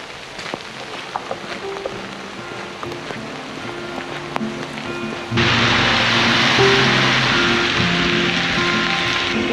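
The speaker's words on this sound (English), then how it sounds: "It's raining really, really hard." Heavy rain on a hiking trail in Bucovina, Romania: at first lighter patter with scattered drops, then a sudden loud, dense downpour roaring close and steady to the end.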